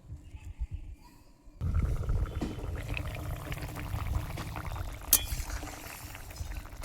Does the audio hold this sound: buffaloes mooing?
no